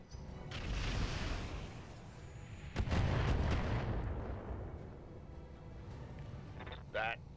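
Heavy booming mortar fire from an Urban Mech in the mech combat game RogueTech, rumbling explosions that swell and fade over several seconds, with someone speaking over them.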